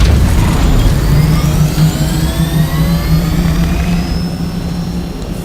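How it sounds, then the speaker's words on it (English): Chopper engine in the video game Dune Awakening, a loud steady turbine whine and roar with a droning low hum and faint rising tones, close and continuous throughout. "I put my chopper down there."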